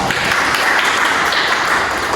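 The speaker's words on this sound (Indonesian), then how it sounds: "Berikan tepuk tangan untuk mereka." A classroom group claps during a microteaching lesson, a dense burst of steady, close applause filling the short moment without pause.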